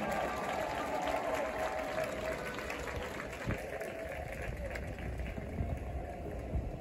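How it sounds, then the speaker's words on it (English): Stadium crowd at a college halftime show applauds marching band members, a broad, continuous wash of clapping and cheering, moderately distant and sustained throughout. "Let's give them all a great big round of applause."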